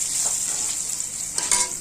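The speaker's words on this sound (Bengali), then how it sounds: "বেগুন ভাজাটা কিন্তু বসালাম।" Eggplant slices frying in a pan alongside a dish of fried potatoes with peanuts, giving a steady close hiss of sizzling oil with a couple of brief louder crackles.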